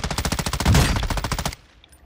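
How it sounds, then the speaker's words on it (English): Rapid automatic gunfire in the Call of Duty DMZ video game, a loud, steady rattle of closely spaced shots that runs for about a second and a half before cutting off into quiet. "You are taking effective fire"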